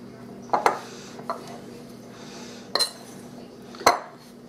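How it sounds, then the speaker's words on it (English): A spoon clinks against a bowl a handful of times while stirring a quiche flour mixture; the sharp knocks are spaced out over a quiet background. "I'm going to stir all these together."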